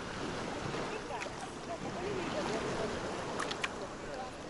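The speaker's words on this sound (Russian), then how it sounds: "Такая волна, что аж с пеной." Foamy sea waves break on the coast at Kemer, Turkey, in a continuous rushing wash of surf, mixed with wind buffeting the microphone and faint voices in the background.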